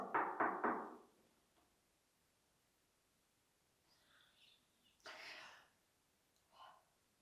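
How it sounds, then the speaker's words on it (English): Knuckles rap on a stone wall inside an old castle room, three or four quick close knocks up front, then faint scattered sounds in a hushed, otherwise quiet space. "rather than knocking on the door, you can knock somewhere in here like this"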